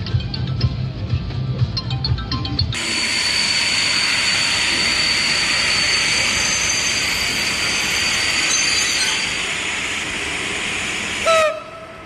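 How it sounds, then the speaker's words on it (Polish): A train rushes past loudly, its steady roar filling the scene for several seconds before cutting off abruptly. "Zatrzymujemy pociąg"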